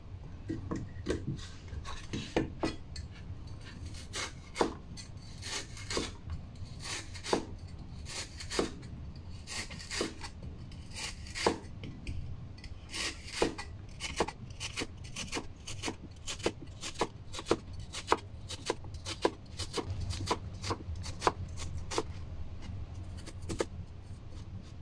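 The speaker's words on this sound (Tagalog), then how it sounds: "ikakat ko lang siya into half and then slice mo siya ng maninipis" A knife thinly slices halved lotus root on a cutting board, giving many crisp, regular chopping taps, fairly close and clear, continuing steadily for the whole stretch with no speech.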